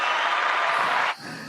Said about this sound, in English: I'm going to give you a round of applause, Doug